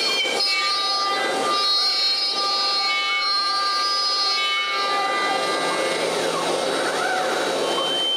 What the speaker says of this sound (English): Since I now have a super precise CNC, I use it to drill the holes.